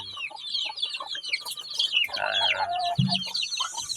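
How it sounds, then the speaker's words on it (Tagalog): Hens cluck and chatter in a busy chorus, with higher chirps over them and a lower squawk close by near the end. "dito may bagong inahin na manok"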